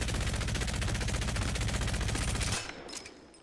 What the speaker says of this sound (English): with the Devotion, it is such a powerful gun